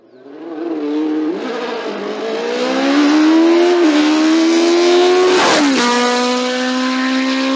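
A Martini MK43 sport race car climbing a hill in a VHC Sport event, its engine loud and close as it revs up through the gears, with a brief shift dip midway before pulling hard again.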